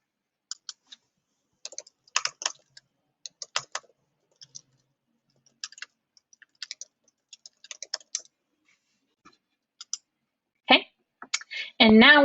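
A computer keyboard is typed in short, sparse bursts of crisp, close clicks separated by silence, with a brief spoken voice near the end.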